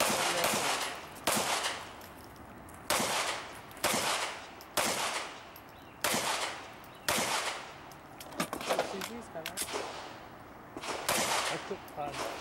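Gunfire at a shooting range: a rapid series of loud, sharp shots in close pairs and quick bursts, each ringing briefly, with a few fainter cracks and some voices in the background.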